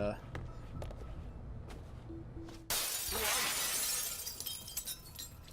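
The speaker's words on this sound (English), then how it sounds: "I thought to break this glass to distract him" A pane of glass shatters in the stealth video game Hitman (2016), a sudden loud crash halfway through followed by a spreading tinkle of shards, after quieter footsteps and ambient noise.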